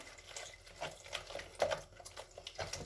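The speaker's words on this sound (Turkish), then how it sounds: "1 litre dinlendirilmiş suya suyu şöyle kabımın içerisine alıyorum" Rested tap water trickling and splashing into a container, a soft uneven pour heard close up with no talking.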